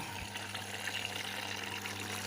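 A Bosch washing machine draws in water, giving a faint, continuous rushing of water with a low steady hum underneath, even and unbroken.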